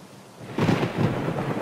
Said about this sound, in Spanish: Y después viene el trueno.